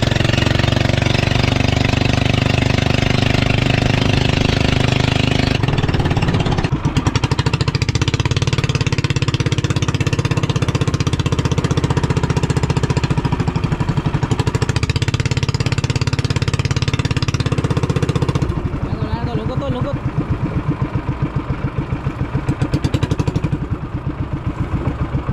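Motor engines of fishing boats arriving, a continuous chugging drone with a knocking rhythm that holds steady and shifts in tone as the boats come in, loud and near throughout.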